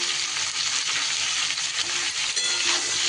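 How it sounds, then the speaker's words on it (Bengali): Chopped pumpkin frying in a pan for a mixed vegetable dish while being stirred, giving a continuous close sizzle with occasional scraping of the utensil. "কুমড়োগুলো দিয়েও আবারও একটু নাড়িয়ে দিয়ে"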